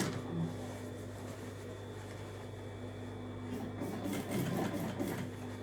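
A home sewing machine fitted with a fine-point needle runs steadily with a low mechanical hum and faint rapid clatter, a little busier toward the end, with no talking.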